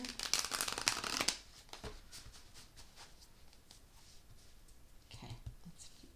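Tarot cards are shuffled in a quick, crisp riffling burst close up for about a second, followed by quieter scattered card handling and soft rustles in a calm room.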